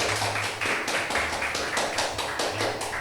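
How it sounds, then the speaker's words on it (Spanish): Church congregation clapping together in a steady rhythmic beat during a worship service, a dense sound of many hands at moderate distance with regular pulses, no voices over it. "Bríndele un fuerte aplauso a Cristo."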